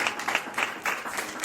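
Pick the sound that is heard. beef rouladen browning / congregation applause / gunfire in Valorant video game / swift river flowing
congregation applause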